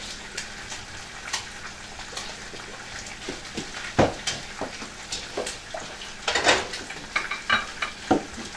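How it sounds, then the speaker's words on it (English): Cornmeal being stirred in a pot over heat, giving a steady soft sizzle broken by irregular scraping and stirring strokes, louder bursts near the end, close and alone without talk. "So I'm putting on the cornmeal, and I'm going to keep stirring on."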